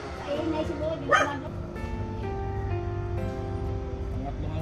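A dog called Boy Tapang, in its cage and eating, gives short yips and whimpers with one sharper bark, up close, while a person talks over it throughout.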